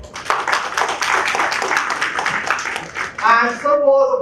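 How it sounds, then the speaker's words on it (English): An audience at a cost-accounting seminar breaks into a dense round of clapping for about three seconds, then a voice begins speaking as the applause fades. "a loud round of applause for him"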